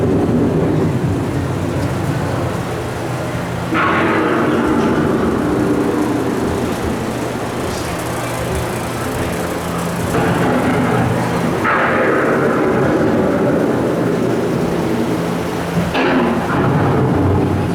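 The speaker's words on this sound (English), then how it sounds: "The approaching storm may seem violent and destructive to us, but to nature, it's a new beginning in the cycle of life." An approaching thunderstorm with heavy rain hissing steadily while several deep rolling thunder rumbles break in, each swelling and fading, close and loud throughout.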